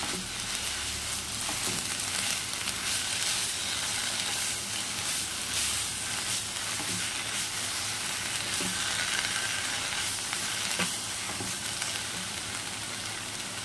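Bottle gourd leaves fry in a pan with turmeric powder stirred in, giving a steady broadband sizzle with occasional soft clicks of a spoon scraping the pan, continuous and close throughout.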